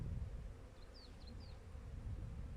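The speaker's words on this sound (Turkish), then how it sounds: "bir çita arı sirkeledim" Low, steady buzzing of honeybees at an apiary right after a frame has been shaken during colony equalizing, a faint droning hum that stays continuous throughout, with a few brief higher chirps on top.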